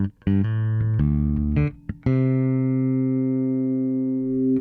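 Ibanez BTB bass guitar with the high mids boosted, several plucked notes then one long sustained note ringing clearly and loudly, bright and defined, with no voices.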